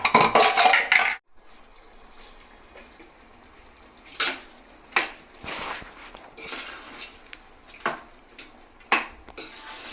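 Mutton curry gravy stirred in a pot at home, a few distinct scraping clinks of a spoon against metal after a burst of noise at the start, spaced irregularly over soft background hiss.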